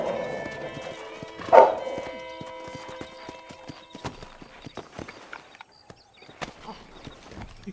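Horse hooves clip-clopping in the Red Dead Redemption video game, a soft uneven series of hoof knocks alongside faint game ambience and a brief louder burst near the start.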